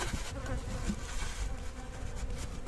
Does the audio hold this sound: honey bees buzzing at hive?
yes